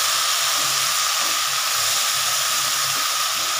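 Okra frying in a pan with turmeric, giving a steady, close sizzling hiss that holds evenly throughout without breaks or voices.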